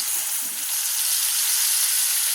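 Masala spice paste, mixed with a little water, sizzles in a hot pan for a vegetarian paneer dish, giving a loud, even, bright hiss that holds steady without a break.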